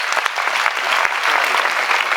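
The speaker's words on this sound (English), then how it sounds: "Give them a round of applause for the question." A business-event audience applauds a question with brisk, dense clapping that holds at an even level for the whole stretch, close and loud.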